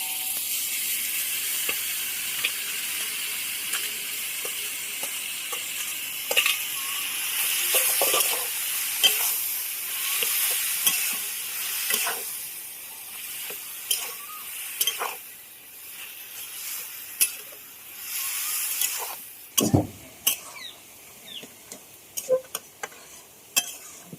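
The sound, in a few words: adding boiled taro leaves to frying chickpea masala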